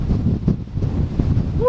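Strong wind on the Manaslu trek en route to Philim, a heavy, gusty low roar buffeting the microphone close up across the whole short stretch, with no voices.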